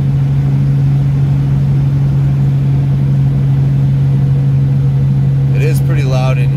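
Inside an old 1949–54 Chevy coupe with the windows up and the heater on, a loud steady drone from the transmission and rear end hums throughout, with a brief voice near the end.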